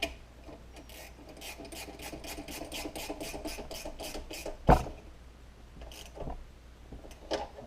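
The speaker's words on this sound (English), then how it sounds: "Break out my 10mm combo wrench." A 10mm combination wrench tightens a bolt on a Briggs and Stratton small engine, producing a close, steady run of rapid rasping ratchet-like clicks, then a sharp clank and a few scattered taps.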